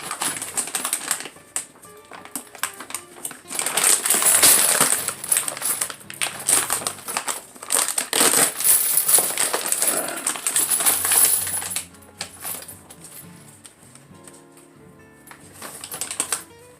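Fired military NATO brass cartridge casings, sorted, cleaned and polished, poured and handled in bulk: a dense metallic jingling and clinking that swells and fades in waves, close and fairly loud, with no talk.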